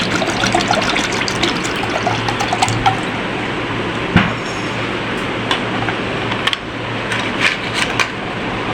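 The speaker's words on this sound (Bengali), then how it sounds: "এখন দিয়ে দিব কিছু পরিমাণ ঠান্ডা পানি।" Cold water pours into a lassi mixture of sour yogurt, a continuous close trickling and gushing stream with a few small knocks and splashes, no talking.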